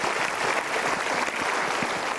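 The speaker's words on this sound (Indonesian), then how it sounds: "Kita berikan tepuk tangan dulu." An audience at a motivational talk show applauds, a dense, steady burst of clapping from many hands that holds for the whole stretch without any speech.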